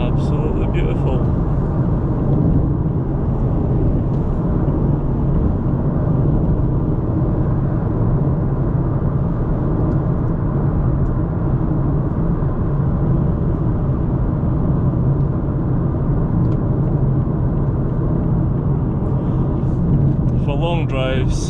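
A 2017 Mazda 3 2.2d SkyActiv diesel cruising on a motorway at about 70 mph, heard from inside as a steady, loud broadband road and engine rumble that holds constant throughout.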